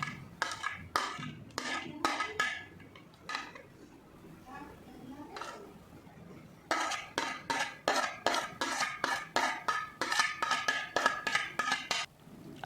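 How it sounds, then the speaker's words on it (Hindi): Chopped vegetables and soya chunks are moved into a mixing bowl in a home kitchen, with repeated close clinks and scrapes of a spoon against the bowl in quick bursts, separated by a short pause. "सभी सब्जियों को जो चॉप करके हमने सब्जियां रखा था एक मिक्सिंग बाउल में हम ट्रांसफ़र कर लेते"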